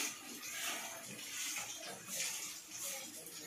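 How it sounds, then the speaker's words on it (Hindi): Rainwater from a rooftop drain pours into a bucket, giving a continuous rushing, splashing gush at moderate distance, steady throughout and fairly faint. "गोलू बाल्टी में पानी भर रहे पनारस छत के।"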